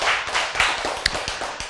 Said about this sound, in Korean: 박수 얼마나 좋습니까?